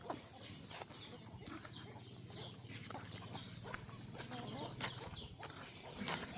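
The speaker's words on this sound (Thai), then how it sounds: "ฟังนั่นเนี่ยเป็ด เป็ดก็อยู่ฟังนั่น ไก่" Chickens cluck and call, with ducks among them, on a rural Thai farm as rain approaches. Scattered, fairly quiet calls carry over a low steady background, without talk.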